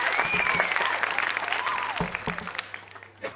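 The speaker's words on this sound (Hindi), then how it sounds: "जोरदार तालियों में करें।" Audience clapping steadily at a Hindi poetry gathering (kavi sammelan), a dense, close burst of applause from a seated crowd with a brief voice over it, tapering near the end.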